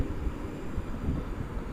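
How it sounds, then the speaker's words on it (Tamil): Strong wind blows around the Thirumalai Murugan temple in Tenkasi district, a steady, gusty low rumble buffeting the microphone throughout, with no voices. "பயங்கர காற்று தாங்க காற்று பயங்கர காற்று அடிச்சுக்கிட்டே தான் இருந்துச்சு"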